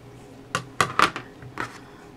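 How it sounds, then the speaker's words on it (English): A few sharp, close snips of scissors trimming a yarn end on a ruffled scarf, irregularly spaced, with a quiet room in the background. "So get my scissors here, and I would just trim that little piece off right there"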